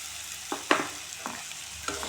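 Sliced banana sizzles in melted cane sugar in a pan, with a few brief stirring scrapes and soft crackles over a low, steady fry.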